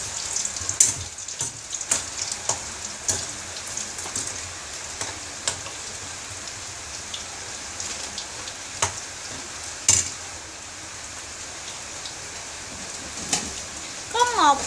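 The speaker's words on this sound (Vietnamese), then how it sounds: "Chiên khoảng 5 phút là bò giò viên của chúng ta sẽ chín nha." Beef meatballs fry in a pan with a steady crackling sizzle, broken by sharper pops and spits throughout, moderately close, with occasional faint voice in the background.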